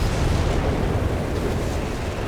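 Continuous heavy rumbling of artillery explosions from Bishop self-propelled gun strikes in the video game Company of Heroes 3, loud and dense, rolling without a break, no talk.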